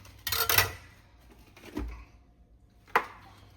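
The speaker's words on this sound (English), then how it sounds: "So we're cutting the cabbage that we pulled out of the garden this morning, putting in a food processor." Garden-fresh cabbage gets chopped in three separate, sharp, close cutting impacts, with short quiet gaps in between.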